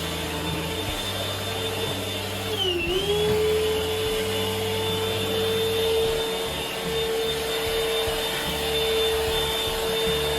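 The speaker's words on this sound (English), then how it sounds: "I'm gonna just run our little sweeper all through the bathroom." Small vacuum sweeper running steadily in a bathroom, a loud close whine with a brief dip in pitch as it meets resistance, continuing without any talk.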